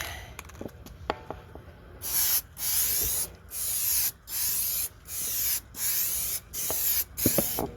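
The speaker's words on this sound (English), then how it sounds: "Now I'm about to spray a heavier coat." Bursts of spraying hiss from a spray can or gun applying HyperDip dip coating onto plastic body cladding of a 2004 Saturn VUE, about seven short pulses in a steady rhythm, close and fairly loud.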